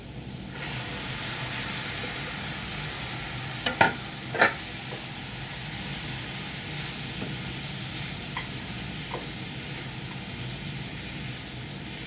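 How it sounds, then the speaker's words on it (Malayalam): Onion, tomato and masala sautéing in a pan for paneer butter masala: a steady frying hiss throughout, with a couple of sharp utensil knocks against the pan partway through. "മസാലയുടെ ഒക്കെ പച്ചമണം ഒന്ന് മാറും വരെ നമുക്ക് ഇളക്കി കൊടുക്കാം"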